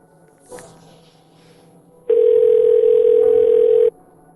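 A telephone handset gives a steady, unbroken dial tone while a call is being placed, loud and close for nearly two seconds after a brief soft click and quiet room noise.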